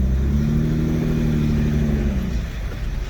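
A Lexus IS300 that has sat for a long time, with brakes dragging, idles and creeps along under its own power, its engine a steady close hum with no talk.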